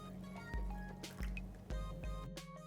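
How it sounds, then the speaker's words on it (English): Water from a cup poured over dal in a pot to rinse it, with wet trickling and dripping sounds and a few soft knocks, close and fairly quiet with no speech. "I'm going to add in a cup full of water. And this is to kind of wash the dal."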